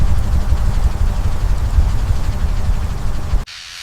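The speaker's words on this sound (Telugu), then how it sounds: "గాలి బలంగా వీచింది" Strong wind blowing during a rainstorm in an animated forest tale, a loud continuous rushing roar that cuts off abruptly near the end.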